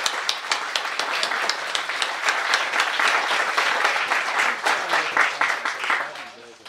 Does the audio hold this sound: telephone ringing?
no